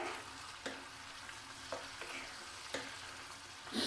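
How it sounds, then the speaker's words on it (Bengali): Chicken and pointed gourd frying in a pan over medium heat, a steady soft sizzle with occasional scraping clicks of stirring at irregular intervals, no talk. "মিডিয়াম করে চিকেনটাকে কষে নেব।"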